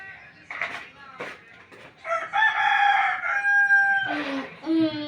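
A voice imitates a rooster's crow with a long, harmonic, drawn-out call in the middle, followed by a shorter rising call, mixed with brief child-like vocal sounds at the start.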